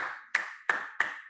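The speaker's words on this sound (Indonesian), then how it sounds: "Beri tepuk tangan dong untuk kelompok kucing." Three sharp, evenly spaced claps ring out close by in a classroom, applause for the cat group of pupils, each crack with a short bright ringing tail and quiet gaps between.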